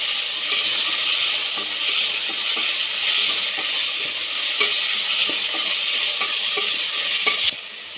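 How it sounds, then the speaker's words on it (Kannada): Chopped tomato and green chillies stirred as they fry in a pan for egg biryani, a steady close sizzle and hiss with soft scraping stir strokes throughout, no voices. "ಕಟ್ ಮಾಡ್ಕೊಂಡಿರೋಂಥ ಟೊಮೊಟೊ ಹಾಗೂ ಹಸಿಮೆಣಸಿನ್ಕಾಯಿ 2 ಹಾಕ್ಕೊಳ್ಳಿ. ಹಾಕಿ 1 ನಿಮಿಷ ನೀಟಾಗಿ ಮಿಕ್ಸ್ ಮಾಡ್ಕೊಳ್ಳಿ."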